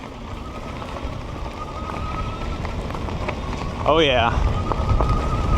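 ENGWE L20 2.0 e-bike ridden at full throttle on a bumpy gravel road, a continuous close rumble of tyres crunching over stones with wind buffeting the microphone, and a rider's voice briefly exclaiming near the end.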